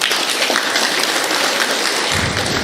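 Sustained dense clapping from a lecture audience, a steady wash of many hands that carries on without pause and grows fuller near the end.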